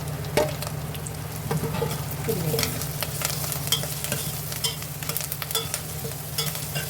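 Onion with curry leaves and a garlic paste containing cumin sizzling steadily in hot oil for a Telangana Bajjila Pulusu, with occasional scraping stirs throughout and no talking.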